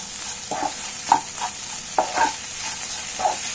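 Sugar sautéing in a pan for a Himachali fagadi dish, with a low steady sizzle and a handful of spoon strokes scraping and tapping against the pan.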